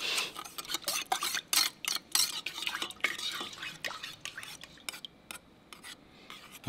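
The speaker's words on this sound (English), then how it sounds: "Gotta mix this up." A homemade American cheese mixture with hexametaphosphate being stirred in a bowl, giving irregular scraping and clinking strokes of utensil against the dish, fairly close and moderately loud, with no talk over it.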